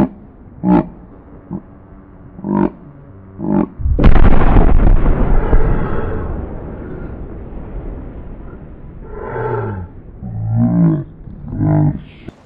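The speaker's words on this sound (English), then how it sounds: "I just heard thump, and then I saw a rocket just hit Mark as he fell to the side." A rocket hit in the video game Arma lands as one loud, booming explosion that rumbles away slowly, with short talk before and after it.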